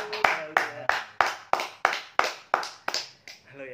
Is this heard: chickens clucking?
no